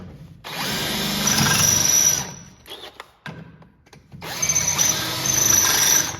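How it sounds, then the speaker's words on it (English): A power drill whines loudly in two long bursts, grinding into a metal bolt, with a pause of clatter and handling noise between them. "It's hard when you're trying to drill a bolt"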